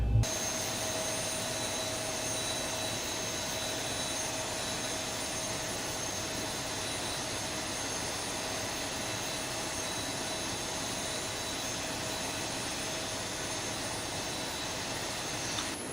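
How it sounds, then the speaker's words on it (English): A Boeing 737 jet engine spooling up during start in the X-Plane 11 flight simulator, a steady, continuous roar with a high whine and hiss held evenly throughout, with no talk. "And you can see the engine roaring."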